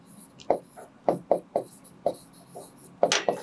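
Marker strokes on a board during a higher-maths lesson on straight lines squeak in a quick, close run of about eight short bursts as a formula is written.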